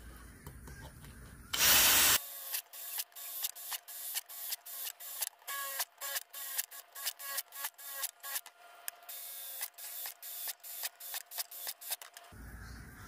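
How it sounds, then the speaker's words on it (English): A drill bit grinds repeatedly through thin metal, enlarging holes in a small soup can; a brief burst of noise is followed by a long run of short, evenly spaced rasping bursts at close range. "we're gonna take our drill bit that we used to make the larger holes in the big can, and we're gonna make all the holes in the side of the small can a little larger"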